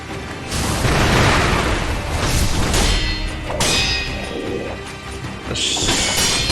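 A firecracker goes off in the samurai action game Sekiro amid a loud close clash of crashes, booms and clanging hits during combat, with several sharp bursts spread across the stretch and no talking.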